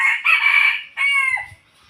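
Young rooster kept for catching jungle fowl crowing close by: a short, strained, two-part crow, loud and alone, with the second phrase trailing off.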